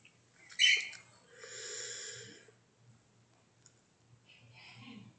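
A sharp, high squeak from a small bird, then softer breathy chirps and rustling, with a low hum underneath; faint and close.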